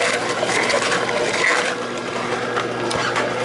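An electric juicer grinds lemon, celery and lettuce with a steady whirring, rattling drone, close and fairly loud, holding even for the whole stretch.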